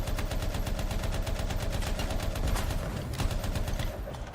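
Rapid enemy gunfire in the video game Anthem, dense bursts of shots repeating steadily throughout at moderate loudness with no talking.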